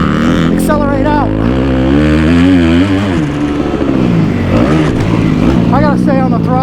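A motocross dirt bike accelerates hard out of a corner, its engine loud and close, the pitch rising and falling with throttle as the rider stays on the gas through the turn.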